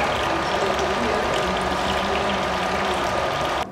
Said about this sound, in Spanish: Atrás está goteando un toque.